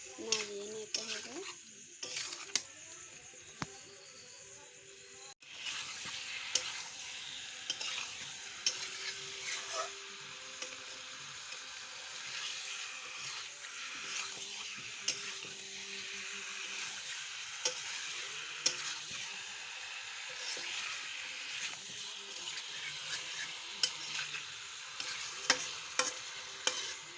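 Chicken frying in a pan and being stirred, giving a continuous soft sizzle with frequent clinks and scrapes of a spoon against the metal, no talking.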